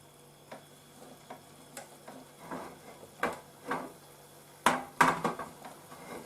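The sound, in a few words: eggs frying in a pan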